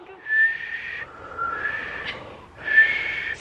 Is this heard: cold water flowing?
no